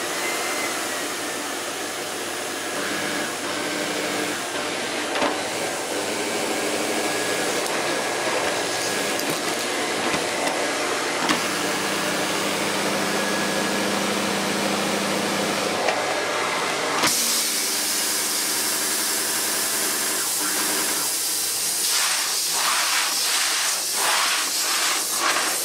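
A Miele Revolution 500 S556 vacuum cleaner with a turbo brush runs steadily on a higher power setting, giving a loud, continuous roar and airy hiss with a faint whine, and its tone shifts abruptly about two-thirds through.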